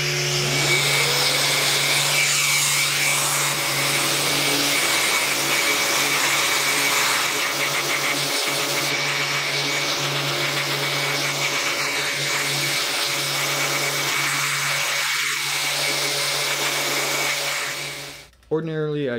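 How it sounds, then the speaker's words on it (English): Power sanding of a laser-cut wood marquetry piece up to 220 grit, a loud continuous motor whine with a steady hum that runs unbroken for the whole stretch and then cuts off abruptly near the end. "Now I'll just sand it up to around 220"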